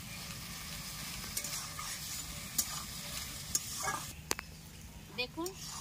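Dried red chili paste sizzling in oil in a pan, with soft frying crackle and irregular scraping and clinking from stirring, close and fairly quiet, a few brief sharp utensil knocks toward the end.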